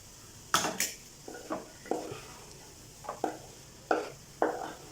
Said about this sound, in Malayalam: ചോറ് കുറേശ്ശെ കുറേശ്ശെ ചേർത്ത് കൊടുക്കാം